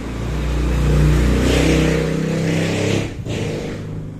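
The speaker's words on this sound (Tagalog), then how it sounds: "ang ingay ng motor." A motorcycle engine revs loudly and close, with a sustained throaty roar that swells around the first second, holds steady, dips briefly near the three-second mark, then resumes; no voices are heard.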